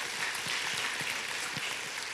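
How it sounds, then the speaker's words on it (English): Congregation in a Baptist church giving a praise clap, a steady wash of many hands clapping together at moderate distance, dense and continuous without voices on top. "I think we ought to give the Lord a praise clap."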